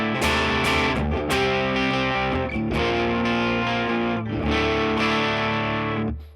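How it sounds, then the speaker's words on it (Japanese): Electric guitar played through a MESA/Boogie amp model in AmpliTube with gain at maximum, heavily distorted chords ringing out loud and sustained with a little reverb, several strummed attacks across the passage. "一旦ゲインをマックスにしたらどのくらい歪むのかなと。"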